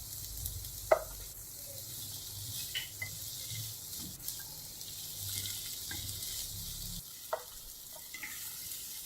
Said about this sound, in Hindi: इसको मज़ीद 2 मिनट के लिए फ्राई करेंगे